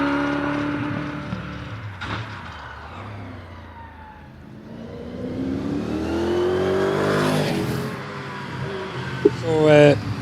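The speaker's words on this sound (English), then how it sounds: "this is Andrew Tippett in this Brabham, which back in 1970 won a couple of runoffs." Brabham 30X racing car, a 1970 runoff winner, accelerating up a British Championship hillclimb course at Doune, its engine note rising and swelling as it nears, with a commentator talking over it throughout.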